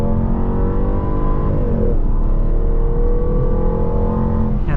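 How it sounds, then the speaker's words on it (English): A 2014 Jaguar XKR accelerates hard up a freeway on-ramp, its engine a loud, continuous rising roar heard from inside the car, with no talk over it. "All right, go ahead and give it some gas."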